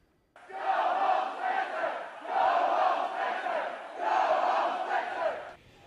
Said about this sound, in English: Loud protest and chanting on the campus of the University of Florida today.